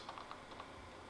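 Quiet clicking of a computer keyboard as someone types, a handful of light, irregular keystrokes close by and faint, with no talk.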